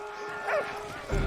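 A dog barks once or twice in the World War I game Valiant Hearts: The Great War, a short, fairly close yelp over a steady background hum.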